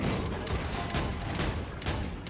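Gunfire in the Paladins video game: a loud, dense burst of rapid shots that continues for a couple of seconds with no pauses.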